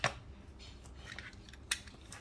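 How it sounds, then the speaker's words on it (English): Two sharp, quiet snips, one at the start and one near the end, cut out the centerpiece of a plastic part for a DF64 coffee grinder declumper, over faint background hiss. "So right now I'm going to cut out the centerpiece."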